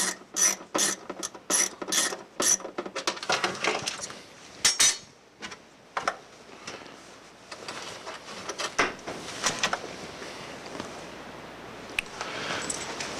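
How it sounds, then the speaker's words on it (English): A ratchet wrench with socket loosens a nut on a ProMax40 top, first a series of sharp rapid clicking bursts, then a spinning ratchet rattle with metallic clinks, close and fairly loud with no speech. "Then insert the wrench and loosen up the combination."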